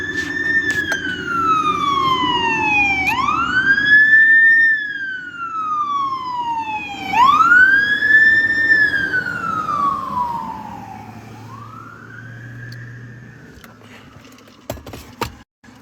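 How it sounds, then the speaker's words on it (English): Fire truck siren wailing as the truck drives down the road, loud and close, with slow rising and falling sweeps repeating about three times before it fades and cuts off. "is a fire truck just driving down the road."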